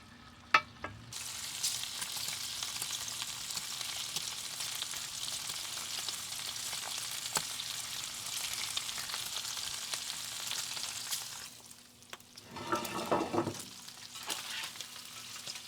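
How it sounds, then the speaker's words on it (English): Bacon cooking in an oven for a loaded potato pizza gives a steady, even sizzle that holds for about eleven seconds, then drops away before a brief louder rustling burst near the end. "So as the bacon starts to cook, it'll actually be browning on the top, not the bottom."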